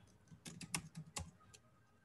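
Keys tapped on a computer keyboard while a first name is entered into an email automation form, a short burst of about eight close, crisp clicks in an uneven rhythm, with no voices.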